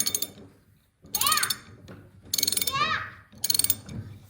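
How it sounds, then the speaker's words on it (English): A 1 7/8 ratchet is worked during an old Massey Ferguson hydraulic cylinder rebuild. It gives several close bursts of rapid clicking, each followed by a squeaky sweep, with short pauses between strokes. "7/8 ratchet here."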